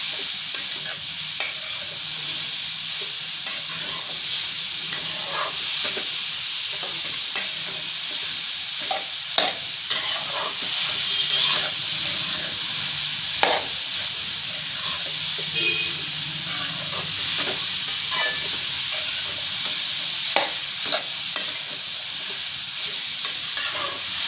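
Grated carrot sautéed and stirred in a pan for carrot halwa, a continuous close sizzle and steamy hiss with frequent scraping stirs throughout.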